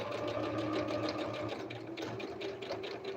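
A sewing machine runs steadily, stitching in reverse for a short backstitch on a patchwork zippered pouch, a dense continuous whir with a faint rhythmic pulse throughout.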